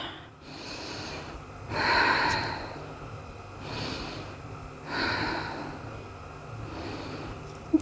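Slow, audible breaths during a beginner hatha yoga stretch come in several soft swells a couple of seconds apart, heard close and quiet with no talking.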